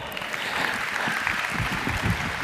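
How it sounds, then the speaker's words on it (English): A dense round of applause from a large arena audience for a quiz winner at a Tesco event at Birmingham's Genting Arena, steady and loud throughout, a continuous wash of many hands clapping. "Give him a round of applause"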